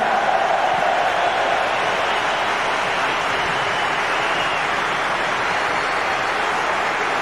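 Football crowd applauding at Old Trafford, a dense, sustained wash of clapping and crowd noise at steady loudness throughout, heard from within the stadium.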